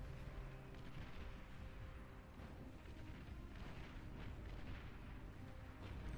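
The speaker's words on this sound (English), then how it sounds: "Pink team has built bombers and is bombing the red team" Bombers make a bombing run in a strategy video game, giving a continuous faint rumble of distant explosions and booming impacts, steady and dense with no clear pauses.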